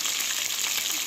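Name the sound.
herring sprat frying in a pot of oil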